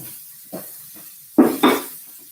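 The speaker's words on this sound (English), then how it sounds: "And can you hear it sizzling?" Pieces of chicken souvlaki sizzle in a hot pan, with a faint hiss at first and then two loud, short bursts of sizzling as more meat hits the pan, along with light pan clatter.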